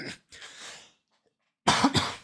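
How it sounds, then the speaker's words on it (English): A person coughs at close range: a short cough and a longer raspy one, then a quiet gap, then two loud hacking coughs to finish. "Sorry, I have a little cough going on."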